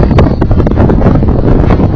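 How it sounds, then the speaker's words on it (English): Strong wind buffets an outdoor microphone in a wide open field, a loud, continuous rumbling roar with gusty flutter and no voices. "Okay, the wind's picking up now."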